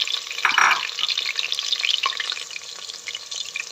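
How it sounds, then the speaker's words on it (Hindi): Onions frying in hot oil in a pan for chana dal, a bright, steady sizzle with a louder burst early on, then settling into a softer crackle. "इसमें और हम प्याज डालेंगे और इसको फ्राई करेंगे।"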